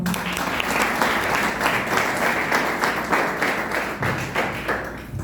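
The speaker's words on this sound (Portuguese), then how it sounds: "Receba o servo do Senhor com palmas." A church congregation claps steadily, a dense, close wash of applause with faint thumps underneath, lasting throughout.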